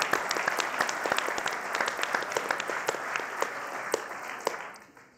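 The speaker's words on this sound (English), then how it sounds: "And we can applaud." A crowd at a residents' association mayoral candidate forum applauds with steady, dense clapping in which individual sharp claps stand out, then it thins and fades out near the end.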